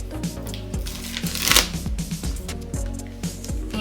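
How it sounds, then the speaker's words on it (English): Paper crinkles and rustles up close as a plant is wrapped loosely for winter shipping, in short uneven bursts with one louder crumple in the middle and no talking. "And I'm just wrapping it in paper."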